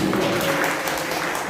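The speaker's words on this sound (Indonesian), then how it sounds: "Tapi tepuk tangan buat Ivana" Audience applause for Ivana at an Indonesian gathering, a brief dense wash of clapping from a crowd, steady and fairly loud, with faint voices underneath.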